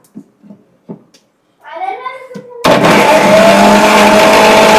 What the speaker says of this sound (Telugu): ఇవన్నీ మంచిగా గ్రైండ్ చేసేసుకున్నాం వచ్చేస్తుంది బాగా